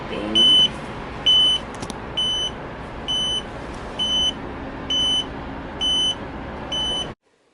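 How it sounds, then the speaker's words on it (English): An in-vehicle tire pressure monitor alarm beeps eight times at an even pace, each chirp short, high and loud, repeating about once every 0.8 seconds over a low engine-like rumble, then everything cuts off abruptly. "Stopped at the Pilot because we have a beeping tire pressure monitor."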